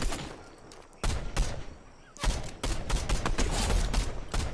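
Gunfire in the Fortnite video game, bursts of shots rattling in quick clusters across the clip, moderately loud with a few breaks between volleys and no talking.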